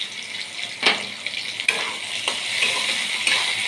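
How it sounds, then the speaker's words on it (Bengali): Potatoes frying and being stirred in a pan for vegetarian soybean chowmein, a steady loud sizzle with scraping stirs, no talking. "ভালো করে আলুটা একটু ভাজবো"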